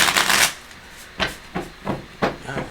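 Tarot cards are shuffled up close: an opening riffle followed by several short, soft shuffling bursts spaced apart.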